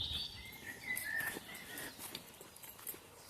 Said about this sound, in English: The birds are communicating.